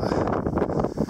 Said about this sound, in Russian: Нам погода не на шутку разыгралась. Штормовой ветер.